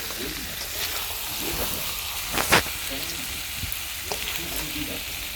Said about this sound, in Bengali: সে নাড়াচাড়া করে ভালো করে এভাবে কষিয়ে নিয়ে নিব, কষিয়ে নিতে হবে ভালো করে।